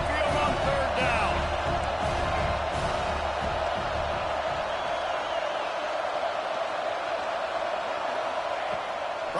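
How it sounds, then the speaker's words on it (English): Roaring stadium crowd at an NCAA college football video game, the home Crimson Tide fans at Saban Field building noise on third down; a dense, steady, loud wash of cheering with a few sharp whoops near the start. "The Tide crowd rolling noise down onto Saban Field on 3rd down"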